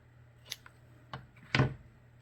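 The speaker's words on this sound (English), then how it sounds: "Let me just snip it" Scissors snip through ribbon while a paper gift card holder is being made, a few sharp cuts spaced apart with the loudest one near the end, close and quiet, with no talking.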